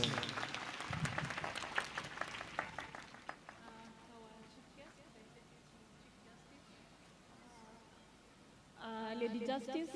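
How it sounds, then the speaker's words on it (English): Applause from a town hall audience at a children's services event as a woman is welcomed to the stage, a brief burst of clapping in the opening seconds mixed with a speaker's voice, then quieter talk. "A round of applause as she comes."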